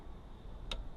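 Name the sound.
click of motorcycle fork clamp tightening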